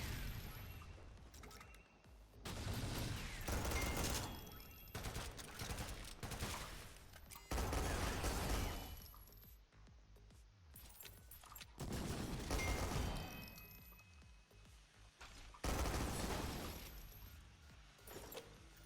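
Akimbo pistols in SYNTHETIK 2 fire in rapid clustered bursts, several volleys of quick sharp shots separated by short lulls, with impacts and breaking debris mixed in.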